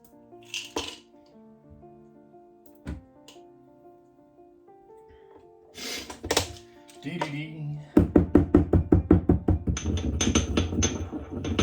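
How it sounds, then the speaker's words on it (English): A Campden tablet is ground by hand with a pestle in a mortar, giving a quick run of sharp, regular scraping and knocking strokes up close after a few scattered taps and clinks. "So we'll get the pestle and mortar over here and gently grind down 1 Campden tablet."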